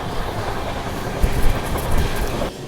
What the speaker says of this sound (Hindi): पुरुषोत्तम एक्सप्रेस जाएगी और उसको झप्पा दे के ओवरटेक करके जाएगी